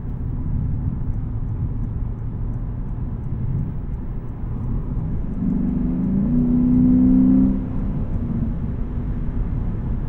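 Lexus IS500 F Sport V8 pulling onto a highway, a continuous low engine drone with road roar heard from inside the cabin, swelling briefly as it revs before settling back to a steady cruise.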